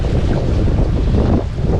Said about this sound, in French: C'est vraiment de la navigation à voile sans moteur.